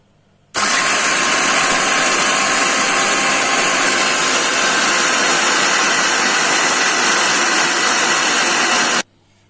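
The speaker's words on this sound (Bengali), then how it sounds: "এখন জিরা গুঁড়া করে নিব, ব্লেন্ডারে দিয়ে দিচ্ছি।" Electric blender grinding cumin seeds, a loud, steady high whirring roar that starts abruptly, runs unbroken for about eight seconds and then cuts off, with no talk.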